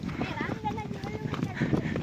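Horses' hooves clip-clop along a road in a steady, continuous patter, heard close and fairly loud beneath ongoing talk from people nearby.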